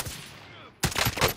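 Gunfire in the Warzone video game, a sniper shot that snaps in abruptly and loud, followed by a dense burst of sharp reports, with no talk.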